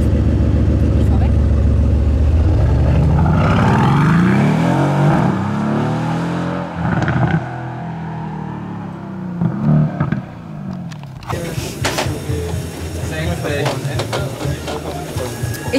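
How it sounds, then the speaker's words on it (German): A Mercedes C63s AMG facelift pulls away, its V8 engine note rising loudly and close as it accelerates through gears, then fading into mixed background noise with voices heard later. "wollen wir ja jetzt auch nochmal den Sound hören beim Wegfahren"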